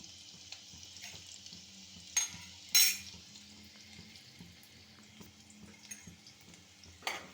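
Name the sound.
chopped onion frying in hot oil with fish curry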